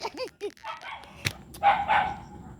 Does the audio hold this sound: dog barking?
yes